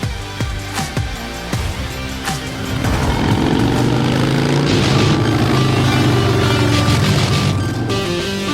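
A motorcycle engine revs and roars up close, rising into a loud sustained drone after a few sharp throttle blips.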